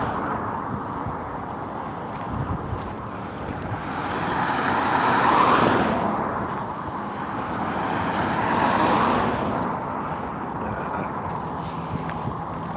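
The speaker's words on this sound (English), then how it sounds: "traffic's coming through like crazy" Road traffic near 120th Avenue and E-470 streams past steadily, with a broad roadway roar that swells and fades as vehicles pass, and no talking.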